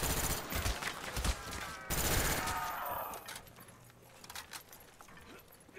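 FAMAS rifle fire in Call of Duty Black Ops Zombies: rapid bursts of loud game gunfire in two main volleys, then sparser scattered shots and clatter, with faint voices mixed in.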